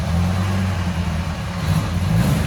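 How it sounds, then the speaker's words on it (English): Small engine of a 1964 Honda S600 Roadster running steadily just after start-up, a close, loud, even idle with a low rumble and no talking. "we're gonna fire it up and go for our drive here"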